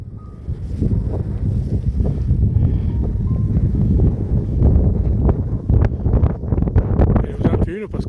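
Strong gusty wind buffets the microphone on a walking trail on a foul day, roaring steadily and loudly with rustling and brief thumps throughout.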